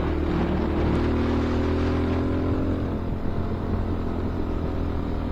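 Honda XR650L dual sport motorcycle riding along, a steady loud engine drone with wind rush and low harmonic hum holding constant throughout, no voices.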